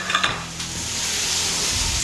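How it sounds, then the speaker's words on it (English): Chicken sautes in a pan over medium heat with a soft, steady sizzle, briefly interrupted near the start by a few clinks of a utensil stirring against the pan. "So we're gonna let this guy go ahead and saute for just a few minutes."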